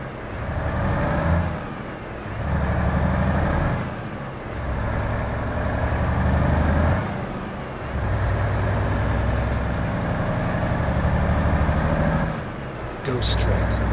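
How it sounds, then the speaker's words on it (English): A 355 horsepower truck engine in American Truck Simulator drones steadily, rising and falling in pitch as it labours and shifts, with a person talking over it throughout. "I'm really kind of impressed this 355 horsepower engine is doing even this good with it"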